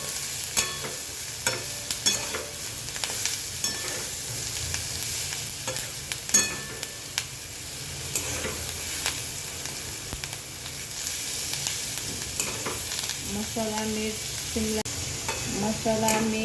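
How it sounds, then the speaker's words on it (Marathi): Finely chopped capsicum stirred with masala, salt and chili powder in a pan gives a soft, steady sizzle under repeated scraping and clinking of a spatula, with faint background voices near the end. "चिरलेली बारीक चिरलेली शिमला मिरची टाकूया आणि थोडंसं हलवून घेऊ मसाला"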